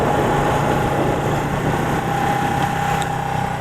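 A motorcycle engine, about two years old, runs steadily at a constant pitch, close and fairly loud, with a buzzing drone and no voices.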